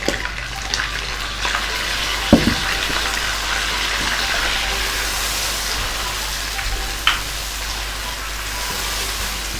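Milk and almond paste hit a pan of browned chicken handi, giving a steady, loud hissing sizzle throughout with a few sharper clinks and pops.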